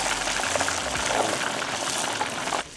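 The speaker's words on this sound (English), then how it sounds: "When it's sizzling, this oil is hot, it's ready, we can throw some fish in." Hot oil sizzles loudly with a continuous crackling hiss as fish fillets fry, then the sound drops away abruptly near the end.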